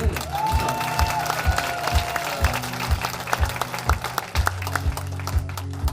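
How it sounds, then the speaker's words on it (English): Audience clapping at a concert in New Albany, Indiana. Steady rhythmic claps ring out over a pulsing low beat from the band, loud and close throughout. "yes, we should clap"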